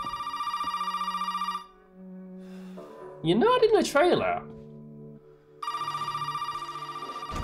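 A telephone rings in repeated electronic bursts in the Resident Evil 7 video game, then pauses while a voice speaks briefly in between, and the ringing resumes after.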